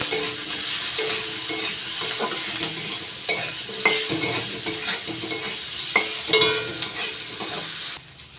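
Potato and eggplant pieces sizzle steadily in hot oil in a pan, with occasional stirring scrapes and clinks over a continuous frying hiss, no talking.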